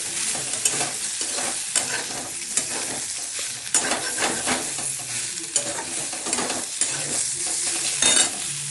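Brinjal slices frying until crisp in a pan for begun bhorta, a steady close sizzle broken by frequent stirring scrapes and clinks, with no talk.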